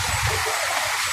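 Dirty water flows steadily in a Manila waterway near Binondo, a constant rushing hiss with no breaks, heard close and fairly loud.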